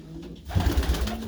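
Young pigeons in a loft during deep cold give low, soft cooing, a few rounded coos pulsing close by after a brief quiet start.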